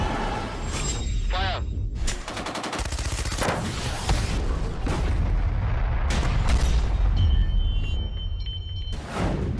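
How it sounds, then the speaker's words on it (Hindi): Rifle and machine-gun fire crackles in rapid bursts and single loud shots during a joint Indian and Uzbek army training exercise at Chaubatia, close and dense, with voices speaking over parts of it. "इस युद्ध अभ्यास में एक खास तरह की गन इस्तेमाल की जा रही है"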